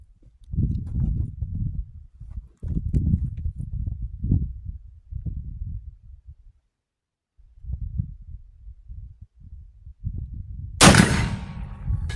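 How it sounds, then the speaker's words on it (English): A #1 rolling block rifle in 45-90 fires a black powder duplex load with a 450-grain gas-check bullet, one sharp, loud report near the end after low, rumbling handling noise outdoors. "rolling block with a black powder duplex load, 450 grain bullet with a gas check"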